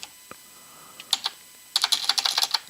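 Keys on a computer keyboard are pressed in a few isolated clicks, then a quicker burst of close, crisp typing follows.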